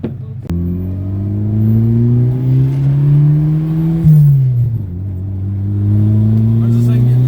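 Turbocharged car engine held at a steady high rev with the wastegate pinned closed at full boost duty cycle, a loud, continuous droning roar that rises slightly, dips briefly, then climbs again, close and alone.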